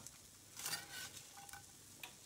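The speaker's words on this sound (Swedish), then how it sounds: "Då ska man stoppa i krutongerna och steka dem tills de blir knapriga." Croutons frying in butter in a pan, giving a faint, soft sizzle with light stirring scrapes and small crackles, quiet and close, with no voices.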